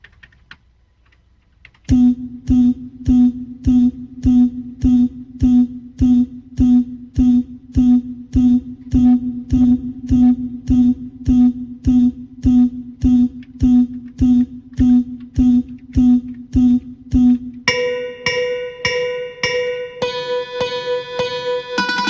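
A Eurorack modular synth patch sent through a mixer and a Herbverb reverb, starting after a short pause as a rapid train of evenly spaced percussive pulses, then shifting near the end into brighter, ringing pitched tones with reverb.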